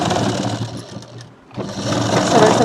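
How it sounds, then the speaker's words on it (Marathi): Sewing machine stitching old bedsheet fabric into a pillow cover, loud close motor whirring with a short pause mid-run before starting again. "सॉरी, मशीन चालण्याचा आवाज येणारच."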